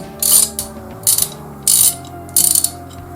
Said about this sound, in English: just put all these bolts in nice and snug